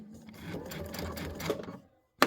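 An Avenir sewing machine stitches through thick quilted fabric in a steady, close mechanical run lasting about two seconds, then stops, followed by a sharp click.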